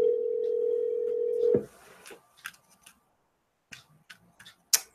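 A telephone dial tone sounds steadily for about a second and a half while placing a call, then cuts off, followed by faint clicks and ticks on the line.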